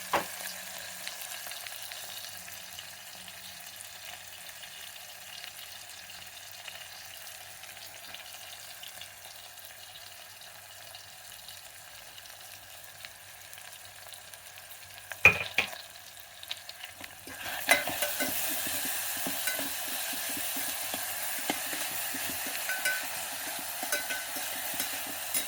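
Onions for a vegetable pulao fry in a pan with a little salt, making a faint steady sizzle that grows louder and busier after a stirring clatter midway, with no talking.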